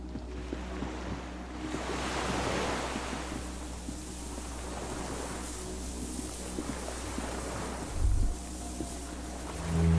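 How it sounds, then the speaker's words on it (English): Cargo ship signal horns sound distantly across water in the game Disco Elysium, sustained low tones drifting over a steady wash of waves and wind, with a brief deeper blast near the end. "The distant sound of cargo ships' signal horns echo on the water."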